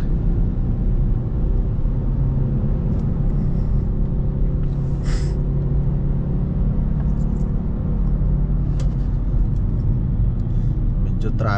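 Road traffic in Australia flows past as a continuous loud rumble of car engines and tyres, steady and close, with occasional brief higher noises.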